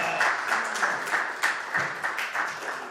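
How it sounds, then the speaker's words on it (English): An audience applauds speakers at a Danube Institute event, a steady patter of clapping with brief louder swells that runs through the whole stretch at moderate volume, with no voices on top. "could I have an applause for Mark and David?"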